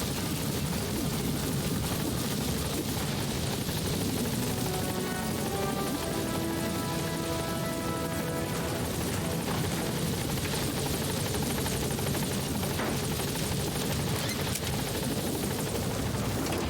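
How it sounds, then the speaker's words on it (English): Loud, continuous rotor thump and engine roar of a support helicopter in the video game Metal Gear Solid V: The Phantom Pain, close by and sustained throughout, with no talking. "Support helicopter has arrived."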